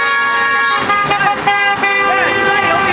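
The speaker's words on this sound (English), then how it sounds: "Honk the horn." A car horn honks in sustained, blaring tones over a loud, continuous background, with talking mixed in throughout.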